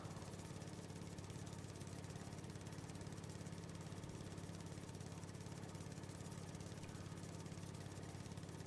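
A mowing machine in the Farming Simulator 19 video game drones steadily with a low, constant engine hum and buzzing mechanical noise, faint and unchanging throughout.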